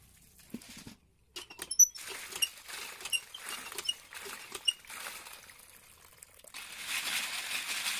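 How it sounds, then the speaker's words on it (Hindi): Snails are rinsed in water by hand for a cooking dish, with close, irregular splashes, clicks of shells knocking together and trickling water, quiet and uneven, ending in a soft rushing pour. "हम इसी तरह से पानी से अच्छे से साफ कर लेंगे"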